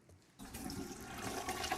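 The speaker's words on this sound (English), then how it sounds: "All right, we flush it." Toilet flush played as a sound effect, a sudden rushing gurgle of water starting after a brief quiet pause and continuing steadily.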